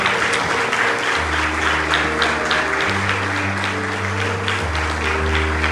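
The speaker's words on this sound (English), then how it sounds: "our kids a little round of applause tonight." An audience at a Christmas candlelight church service claps steadily for the kids, a dense, sustained round of applause over organ-like held tones.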